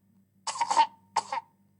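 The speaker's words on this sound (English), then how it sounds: "Just then, the Queen heard a cough." Two short, clear coughs from a single person in a quiet empty room, the first a longer double burst and the second briefer, with silence around them.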